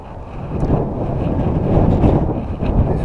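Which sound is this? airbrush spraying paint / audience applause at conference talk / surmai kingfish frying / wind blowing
wind blowing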